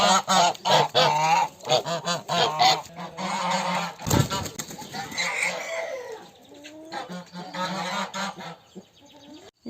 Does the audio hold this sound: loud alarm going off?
no